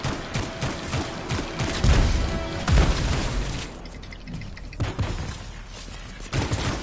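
Gunfire erupts in the video game Anthem: dense volleys of rapid shots mixed with heavy booms and thuds, loud and close, easing briefly before short bursts resume.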